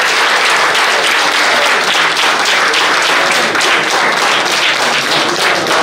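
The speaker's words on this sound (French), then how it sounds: "Des acclamations massives pour approuver la mention du jury." Loud, dense applause from an audience greeting a jury's verdict at a doctoral thesis defense, sustained evenly with rapid overlapping claps and no pause throughout.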